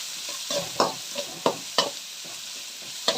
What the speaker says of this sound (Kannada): ಸ್ನೇಹಿತರೆ, ಇವಾಗ ಈರುಳ್ಳಿ ಹಾಕಿದ್ದೀನಿ.